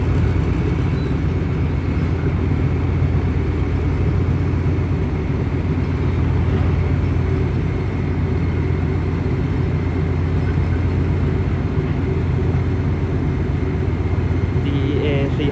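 A Thai State Railway diesel locomotive, US-built and in service since 1995, runs while hauling a long train of used concrete sleepers near a border crossing, giving off a steady, close, deep engine rumble that never lets up.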